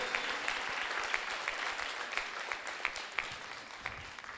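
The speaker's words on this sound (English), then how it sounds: "Let's give him another round of applause." A round of applause from a workshop audience at Turfloop, Limpopo: dense, continuous clapping with a few sharper individual claps standing out, moderately loud and carrying on throughout.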